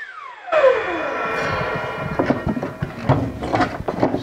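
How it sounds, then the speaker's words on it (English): A homemade mini CNC machine making a loud, noisy cut in a workshop, a rising tonal whine at the start giving way to harsh, rattling, clattering cutting noise that keeps pulsing irregularly, close and alone. "One more real noisy cut."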